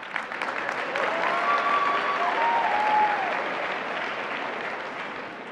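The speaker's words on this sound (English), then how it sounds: "yes, you can clap." Audience applause at a BBYO International Convention awards gala, a steady wash of clapping from a large crowd that swells and then slowly tapers off, with no voices over it.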